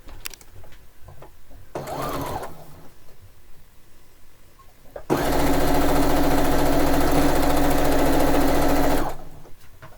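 A sewing machine stitches quilt pieces together in one loud, steady run of about four seconds, preceded by quieter handling noises and a brief low voice.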